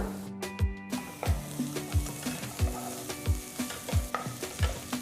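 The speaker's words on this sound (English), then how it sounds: "Saute the onions till they're a nice golden brown color." Onions sautéing in a pan, loud close sizzling with a regular rhythm of spatula scrapes and taps, roughly two strokes per second throughout.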